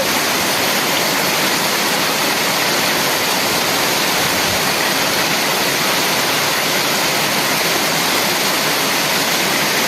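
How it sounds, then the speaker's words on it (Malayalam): Heavy rain pours in a loud, continuous hiss, blending with the rush of rising floodwater into one dense wall of water noise. "മഴ ശക്തിയായി പെയ്യുന്നുണ്ട്, മഴ ശക്തിയായി പെയ്യുന്നുണ്ട്. വെള്ളം കൂടിക്കൊണ്ടിരിക്കുകയാണ്."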